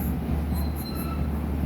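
Train at Strood station rumbling steadily with a low drone and faint high wheel squeals, heard close and alone without talk.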